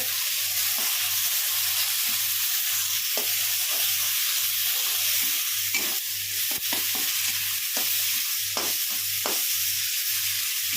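Spices with Kashmiri red chili stirred in a hot pan, a steady sizzle running throughout with repeated soft scraping strokes of the spoon at an even rhythm, close and fairly loud with no talking.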